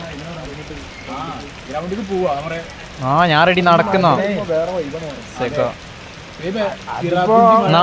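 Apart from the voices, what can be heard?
rain falling outdoors on a rainy day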